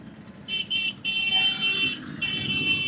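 Vehicle horns in busy town street traffic in Vellore, heard from a bike taxi: repeated high, steady toots, two short blasts then longer sustained honks, over a constant low road rumble.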